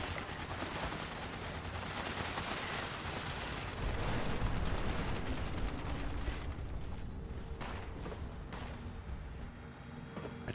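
Sustained gunfire rings out at a vertibot in Fallout 76, loud rapid overlapping shots forming a dense barrage that thins into scattered bursts toward the end.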